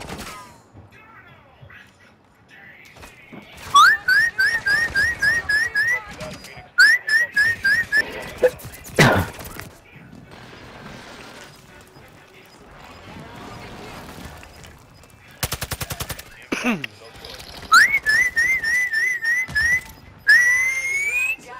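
A person whistles in repeated short, rising bursts and trills during a multiplayer online game, loud and close, with quieter stretches of talk and game noise in between.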